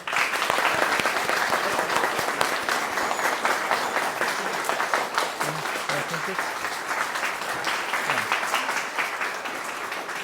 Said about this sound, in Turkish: Öğrencilere bir alkışlar alalım.